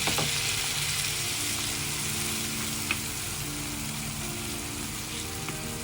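Pork liempo sautés with soy sauce in a pan, giving a steady, close, loud sizzle with an even hiss and faint crackles throughout, sharpest at the start.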